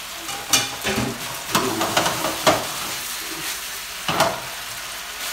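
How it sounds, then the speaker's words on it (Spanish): Sliced onion frying in a hot pan for liver and onions, a continuous crackling sizzle broken by a few louder bursts as the pieces are stirred and shifted. "Ahora sí le vamos a echar la cebolla."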